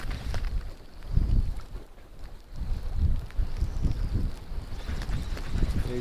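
Strong, snowy wind blows over the water while fishing from an anchored boat, making a gusty, rumbling buffet that swells and eases steadily across the microphone.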